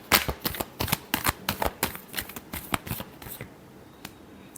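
Tarot cards being shuffled by hand in a rapid series of crisp riffling flutters and taps, close and fairly loud, with no one speaking.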